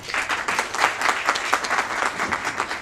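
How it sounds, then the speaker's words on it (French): A crowd applauds president Ousmane Sène, dense steady clapping from many hands at close range, holding loud throughout with no pauses. "Il mérite tous nos applaudissements."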